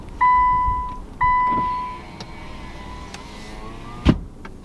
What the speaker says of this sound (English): So I just turned my car on.